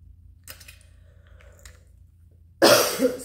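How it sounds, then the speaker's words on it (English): A person gives a single sharp, loud cough at close range after a few seconds of quiet clay-crafting movements. "Still have to cough a little bit."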